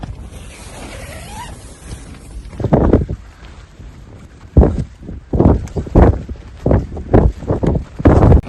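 Strong gusts buffet the microphone on open Bodmin Moor at a wild camp near Sharp Tor, loud irregular low rumbling bursts growing more violent in the second half, with no speech.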